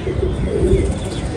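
A flying pigeon coos close by in a low, throaty, rolling murmur that runs steadily through the short moment with no other sounds.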